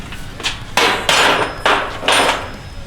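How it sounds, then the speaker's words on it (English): A pneumatic impact wrench fires several loud, rapid hammering bursts into a transmission bolt on a 1992 Ford F250 with an E4OD gearbox, four strong blasts in quick succession with short pauses between. "Grab the impact and give her a blast."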